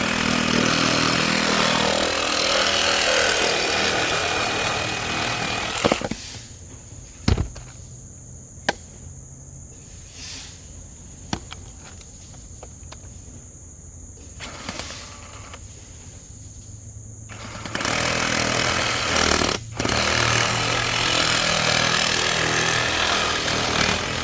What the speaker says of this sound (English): when you're cutting this PVC pipe